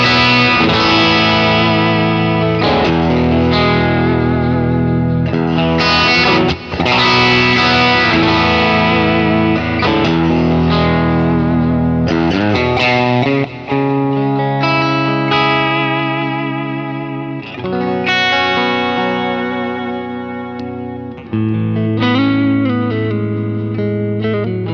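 Distorted electric guitar played through an amp modeler such as a Kemper, Tone X, Quad Cortex or Helix, set up as a cranked-amp mix tone: sustained, heavily saturated chords and riffs, loud and continuous for the whole stretch with no talking.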